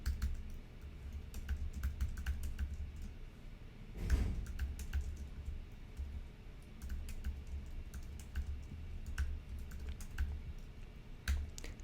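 Steady typing on a computer keyboard while entering commands in a Unix terminal, a quick run of light key clicks with a brief pause, close and fairly quiet over low hum.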